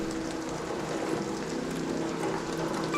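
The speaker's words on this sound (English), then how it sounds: "It's hard with the rain to hear these in the rain." Steady rain falls in the video game ARC Raiders, a constant even hiss of drops on surfaces with no breaks, moderately loud and with no voices over it.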